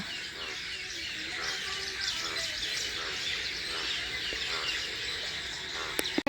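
Steady outdoor chorus of chirping birds and buzzing insects by a rain-filled village pond, continuous and moderately loud, with a couple of sharp clicks near the end.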